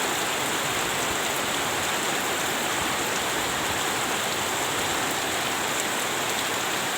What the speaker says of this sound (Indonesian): sangat disayangkan dikarenakan hujannya belum reda